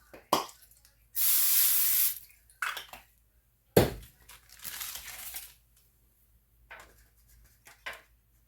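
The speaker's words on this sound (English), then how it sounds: "And you're going to spray your pan." Short hissing bursts of aerosol cooking spray onto a pie pan, one long blast and a few shorter ones, close by with quiet handling noises between.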